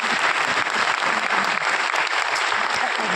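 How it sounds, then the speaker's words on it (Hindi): An audience at a training session in Delhi breaks into vigorous applause for guests, a full, steady roar of clapping sustained at even loudness throughout. "एक बार जोरदार तालियां सभी मेहमानों के लिए"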